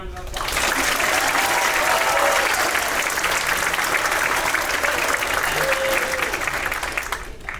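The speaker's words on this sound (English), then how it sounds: "Give them another round of applause." A crowd at a university materials science department graduation ceremony gives a long round of applause, loud and dense for several seconds, with faint voices mixed in before it tapers off at the end.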